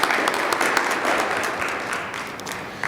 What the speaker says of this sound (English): Let's give a round of applause for all of our new and myself returning trustees.